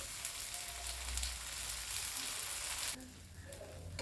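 A jowar (sorghum flour) dosa sizzles steadily in oil on a hot pan, a close, continuous crackling hiss that softens slightly near the end.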